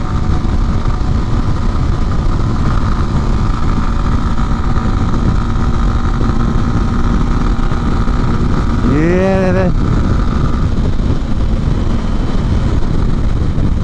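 A Max150 motorcycle rides through rush-hour traffic in Dubai near Al Maktoum Bridge, its engine a steady loud drone under wind buffeting, with a rising horn-like tone briefly near the end and a short spoken word.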